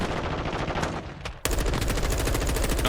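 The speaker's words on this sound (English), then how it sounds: "Gunfire prattling out across the map" Rapid automatic gunfire crackles in dense, continuous bursts during an esports video game match, with a short dip before the shooting resumes louder and sharper.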